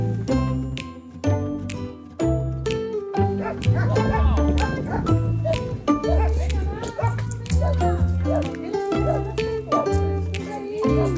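A dog barks and whimpers repeatedly in short yips and whines, close by, mixed with people and children talking and playing around it.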